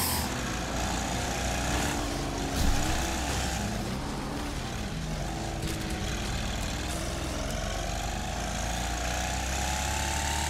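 Racing lawn mower engines during a lawn mower trophy event in the video game Wreckfest: a loud, steady, buzzing engine drone that shifts in pitch, with a brief thump of impact early on.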